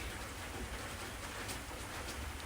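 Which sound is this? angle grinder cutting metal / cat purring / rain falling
rain falling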